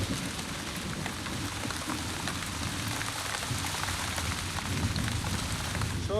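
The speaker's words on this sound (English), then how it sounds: "Pouring rain and blowing a hurricane ever since." Heavy pouring rain in a storm with strong wind, a dense, even hiss of drops drumming on surfaces that fills every moment without pause.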